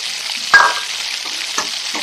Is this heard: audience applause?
no